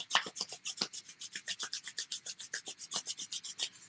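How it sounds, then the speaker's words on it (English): Palms rubbed briskly together during a Reiki meditation session, a steady rhythmic rasping swish repeating about six times per second, close and clear with no talking. "put your hands together and start rubbing them energetically"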